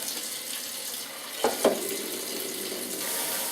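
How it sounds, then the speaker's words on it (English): A kitchen tap runs lukewarm water into a pan, a steady hissing rush held close and fairly loud, broken briefly by two quick clunks near the middle. "I'm going to fill the pan up first with basically lukewarm water"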